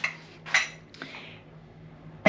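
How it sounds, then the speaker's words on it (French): Dishes clinking during washing up and putting away in a home kitchen: a few sharp ceramic and metal knocks spaced apart, close and fairly loud, with quiet pauses between. "Ranger entièrement et faire toute la vaisselle"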